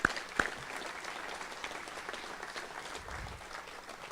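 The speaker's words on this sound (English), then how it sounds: "So how about a round of applause?" Graduation audience at Northwest Lineman College applauding, a steady wash of many hands clapping at moderate distance with a couple of louder nearby claps at the start.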